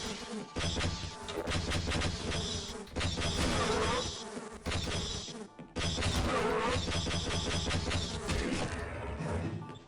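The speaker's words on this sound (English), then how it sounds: "It sounds like he's shooting bees at you." Buzzing insect swarm fired from the bee-shooting bug gun in Half-Life, loud dense droning bursts with brief gaps between shots, alone without talk.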